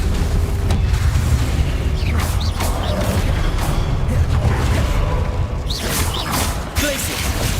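Confringo blasting spell cast in Hogwarts Legacy, a dense run of booming blasts and whooshing magical bursts over a continuous rumbling game soundscape, loud and close with no pause.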